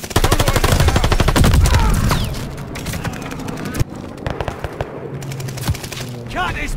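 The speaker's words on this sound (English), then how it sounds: "Shooting" Rapid automatic gunfire and bursts of shots from the video game Call of Duty: Vanguard, loud and dense at first, then thinning into scattered single shots and a sharp bang, with faint voices mixed in.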